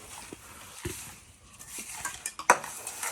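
Banana and sugar filling for pitha being mixed in a bowl gives soft, close scraping and stirring sounds with scattered light clinks of a spoon against the dish, one sharper knock near the end.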